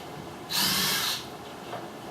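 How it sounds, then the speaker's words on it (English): A power drill with a 3/8 inch spade bit bores through wood during a camper roof spar install, a single loud, high whine lasting under a second. "I've countersunk my hole with a 3/8 inch spade bit. Now I'm just kind of punching it through a little bit."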